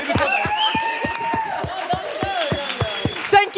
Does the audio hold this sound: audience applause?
yes